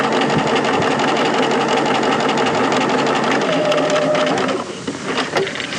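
A sewing machine stitches a godet into fabric, its loud, close, rapid motor whir and needle chatter running steadily, then easing off briefly near the end before a few final stitches.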